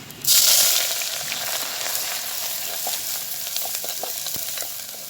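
Chopped onion with cinnamon, cloves, peppercorns, cardamom, bay leaf and dried chilli hitting hot oil for mutton biriyani in a clay pot, a sudden loud sizzle that settles into steady close frying crackle.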